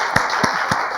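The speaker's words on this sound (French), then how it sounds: "Applaudissements pour coach." A studio audience at a French-language talk show applauds the coach, a steady close wash of clapping punctuated by a few louder, regular hand claps.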